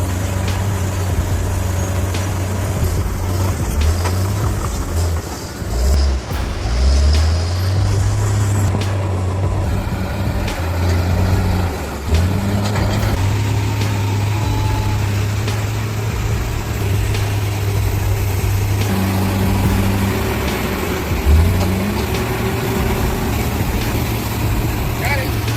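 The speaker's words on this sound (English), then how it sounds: "the roar of the engine echoed throughout the sky" Heavy bulldozer engine roaring and labouring while pushing boulders off-road, a loud, close, steady low drone that rises and dips in pitch as the machine works, with narration running over it.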